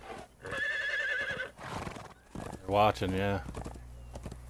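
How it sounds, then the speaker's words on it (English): A horse in a video game whinnies loudly twice, with hoof clip-clops between, while people talk briefly over it. "Who's that with a white horse?"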